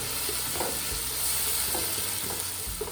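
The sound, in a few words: stirring crab curry spices in a pan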